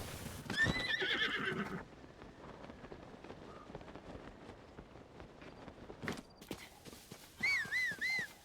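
A horse in Zelda Tears of the Kingdom whinnies loudly near the start, then a quieter stretch of hoof clip-clop and wind, and another burst of neighing at the end.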